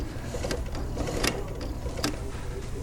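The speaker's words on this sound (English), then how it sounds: "Viking sewing machine." A Viking sewing machine with its pedal mounted sideways for knee operation runs steadily, its motor whirring continuously with a few sharper mechanical clicks, fairly close.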